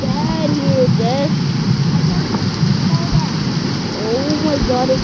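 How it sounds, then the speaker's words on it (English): Heavy rain pours during a tornado storm, a dense, close hiss that stays steady throughout, with faint voice-like sounds mixed in beneath it. "Oh, it's raining really bad here, Des"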